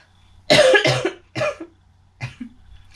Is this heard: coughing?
yes